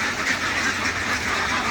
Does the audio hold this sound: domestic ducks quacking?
yes